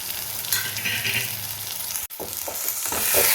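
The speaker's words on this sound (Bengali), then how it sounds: "মশলাগুলো ভালো করে কষিয়ে নেব।" Spices frying with salt, turmeric and a little sugar for an egg curry, a steady close sizzle with stirring scrapes and a brief break midway.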